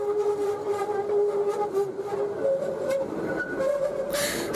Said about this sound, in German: Jetzt rollt es gemütlich und zufrieden ins Tramdepot.